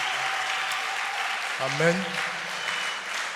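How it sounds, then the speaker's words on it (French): Congregation at a church service applauding steadily under a noisy, crowded room, with a voice speaking briefly over the clapping midway. "ils ont commencé à applaudir"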